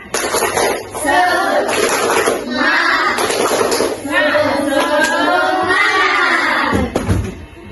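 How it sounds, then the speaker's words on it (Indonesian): A fourth-grade class doing a rhythmic spirit clap as an icebreaker: children's voices chant together in a loud, steady beat with hand claps mixed in, filling the room for several seconds. "Coba, tepuk semangat."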